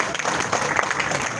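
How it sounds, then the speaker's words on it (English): Audience applause at a live event honouring Malam Yashwai, a dense steady patter of clapping throughout with no voices. "Malam Yashwai, a round of applause."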